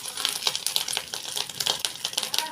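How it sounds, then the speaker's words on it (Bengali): Fish roe fritters frying in hot oil, a dense close sizzle full of sharp crackling pops and spits, steady throughout with no talking. "তেল গরম হয়ে গেছে, এবার তেলের মধ্যে আমরা এগুলো ছেড়ে দেবো।"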